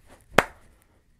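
One crisp, close hand clap marks a jumping step in a Watch Me Whip dance routine, preceded by soft footstep rustle and followed by quiet.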